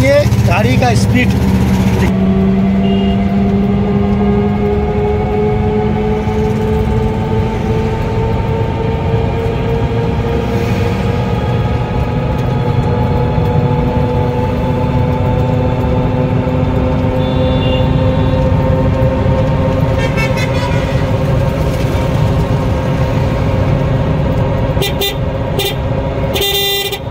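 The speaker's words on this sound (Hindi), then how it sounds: "आपको हमने हाई रोड पर गाड़ी चलाकर आपको दिखाएंगे गाड़ी का स्पीड" A battery auto rickshaw (toto) runs fast along a highway in Howrah, with steady road and motor noise throughout, horns honking nearby in traffic, and no talking over it.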